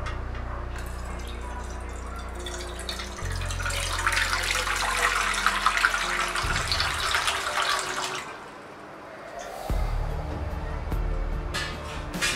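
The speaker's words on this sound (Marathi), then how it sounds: "मी एक पॅन ठेवलाय, त्यामध्ये मी आता पाणी घालत आहे" Water is poured into a cooking pan at the start of an aam panna (raw mango drink) recipe: a steady pouring rush for several seconds that then tapers off, fairly quiet and close, with no talking.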